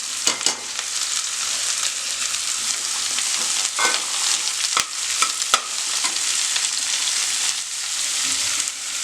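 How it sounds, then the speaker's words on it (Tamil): Chopped country bottle gourd fries in a pan for thayir kuzhambu, with a loud, steady hiss of sizzling oil and occasional sharp scrapes and clicks of a spoon stirring. "அடுத்து நம்ம அரிஞ்சு வச்சுருக்க சுரக்காய் போட்டுக்கலாம்."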